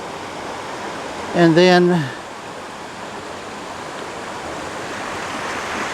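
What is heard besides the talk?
small waterfall flowing over rocks into a creek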